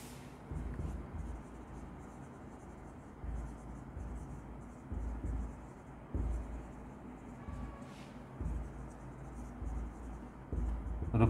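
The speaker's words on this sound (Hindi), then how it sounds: "यहाँ पर परचेज गुड्स फ्रॉम श्याम ये लिख देते हैं हम।" A pen scratches out an accounting entry by hand, soft close scraping strokes in uneven bursts, quiet and continuous with no one talking.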